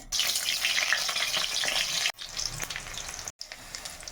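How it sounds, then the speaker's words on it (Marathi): Oil sizzling and frying in a pan for palak paneer, a bright crackling hiss that runs steadily with two brief cuts, close and fairly quiet with no voices. "पालक पनीर बनवण्यासाठी 3 पळी तेल घेतलेलं आहे।"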